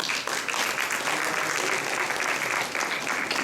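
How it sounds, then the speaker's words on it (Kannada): An audience at a school stage event claps warmly for parents, a dense, steady burst of applause filling the hall at close range without voices over it. "ಹೆತ್ತವರಿಗೆ ಮತ್ತೊಮ್ಮೆ ಚಪ್ಪಾಳೆ."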